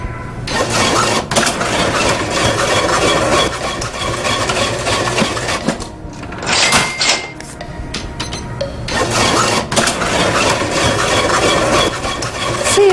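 A cash register clatters and whirs through a series of mechanical bursts, with printing buzzes and clunks rising and falling over several seconds, close and fairly loud.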